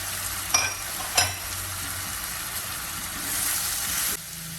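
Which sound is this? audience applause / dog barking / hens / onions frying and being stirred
onions frying and being stirred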